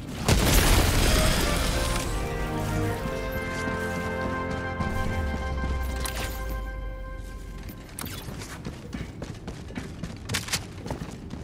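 A large explosion in the shooter game Helldivers 2 booms loudly at the start, followed by a long rumbling, ringing decay with tonal game music or mechanical hum sustaining underneath, and scattered distant crackles toward the end; no one speaks.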